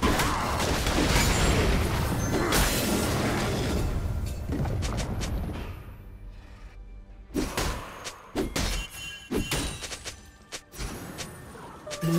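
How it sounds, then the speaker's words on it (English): A League of Legends turret crumbles under attack, a sustained heavy rumbling crash that fades, followed by a string of sharp thuds, clanks and impact hits as the fight continues. "Blue team's turret has been destroyed."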